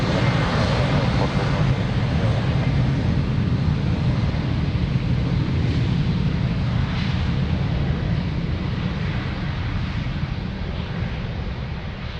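A jet airliner taking off from runway 02 at Lisbon Airport, a steady broad engine roar holding strong throughout with wind buffeting the microphone and a radio voice faintly in the background.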